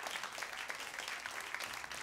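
A theatre audience at a magic and hypnosis show claps steadily for a couple of seconds, a dense, even patter of applause with no voices standing out.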